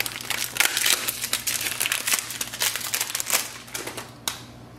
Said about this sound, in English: Take the print heads out of the plastic packaging.